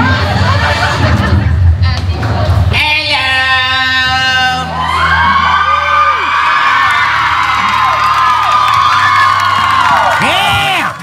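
A concert crowd in Iowa cheers, whoops and screams loudly and continuously, a dense roar of many voices with individual shrill yells rising above it, close and sustained throughout.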